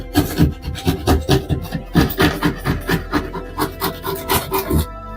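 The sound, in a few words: knife shaving edge of drywall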